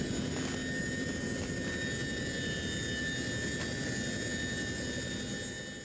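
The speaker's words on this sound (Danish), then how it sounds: "Få sekunder før selve angrebet hører man den enorme helikopter nærme sig." A huge military helicopter approaches at night during a special forces raid, a steady, dense engine and rotor roar filling the scene with faint thumps and no talk, easing slightly at the end.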